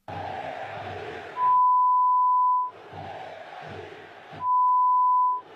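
Football supporters at a Vasco match jeer coach Carille, their massed crowd noise surging in loud bursts, interrupted twice by a long steady censor-style beep tone.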